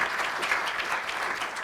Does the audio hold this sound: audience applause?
yes